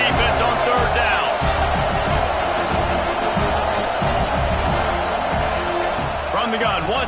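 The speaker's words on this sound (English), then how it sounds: "Decibels rising as the crowd gets behind this defense on third down" A packed football stadium crowd roars steadily on a third-down defensive stand, loud and sustained, with a commentator's voice running over the noise.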